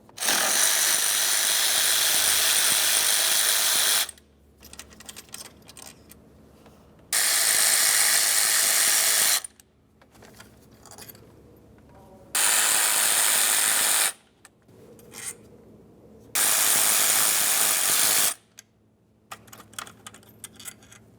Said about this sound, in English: you can start removing your four 8mm headed mounting bolts that hold the throttle